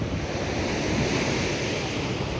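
Sea waves wash onto Madhavpur beach in a continuous, even roar, with gusty wind noise buffeting the microphone and no voices.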